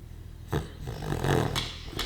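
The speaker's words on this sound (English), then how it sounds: "why are you barking at me for food?" A dog gives a few short, low barks and growly grumbles close by, spaced irregularly over a couple of seconds.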